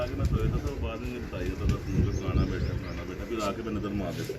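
Large Firozpuri and slate-grey breeder pigeons coo softly in a loft while someone talks over the birds' low, rolling calls.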